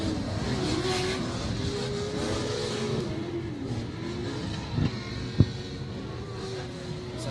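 Off-road race trucks, including the Fabtech Pro Light, race at Glen Helen, their engines roaring and revving steadily in a continuous wash of motor noise. A sharp knock sounds near the end.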